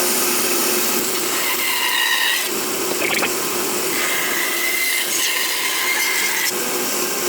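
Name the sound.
cutting a cedar guitar body blank freehand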